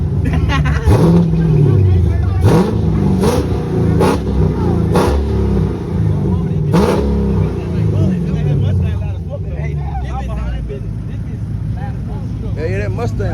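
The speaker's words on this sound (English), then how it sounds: "Yeah, that Mustang loud as fuck. Hey, hit yours again." A loud Ford Mustang engine revs hard at a street takeover, its deep roar repeatedly surging and dropping with sharp bursts between revs, close by and continuous throughout.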